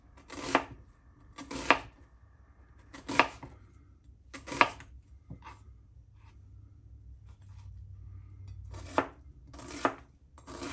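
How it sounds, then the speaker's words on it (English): A knife chops an onion on a board, sharp separate thuds in irregular bursts with quiet gaps between them, close up and with no voices. "So we're going to peel the onion, get it sliced, and then chopped into pieces."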